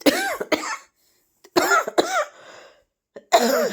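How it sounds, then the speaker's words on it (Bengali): A person nearby coughs in several short, harsh bursts separated by brief silent pauses. "হাঁচি কাশি এই নিয়েই আসছি"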